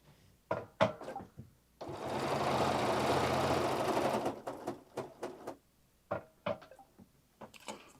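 A Bernina sewing machine stitching in a short continuous run of about two and a half seconds, a soft mechanical whir framed by scattered clicks and handling knocks before and after.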